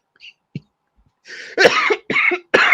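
A few harsh coughs in quick succession, close and loud, preceded by a couple of faint small sounds.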